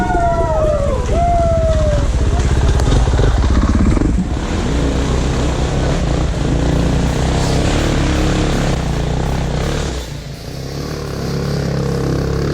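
A 2016 KTM 450 XC-F dirt bike races in an enduro event, its engine revving and shifting in rising and falling whines near the start before settling into a steady, somewhat distant drone.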